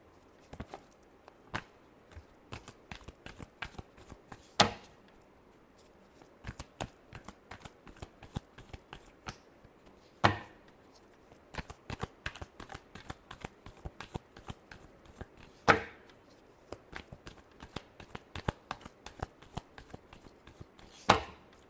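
Tarot cards are shuffled over and over in a quiet room, with rapid papery riffles and soft slaps coming in uneven bursts and sharper snaps now and then. The sound is close, low in level and carries no talk.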